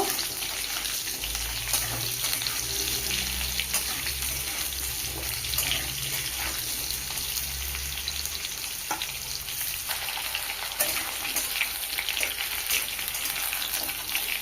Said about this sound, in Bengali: আলু হালকা ভেজে নেব।